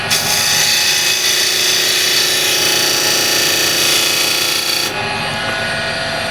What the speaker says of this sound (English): with the skew I'll just make it nice and straight or slightly dovetail